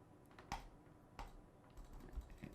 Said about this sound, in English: hit S on the keyboard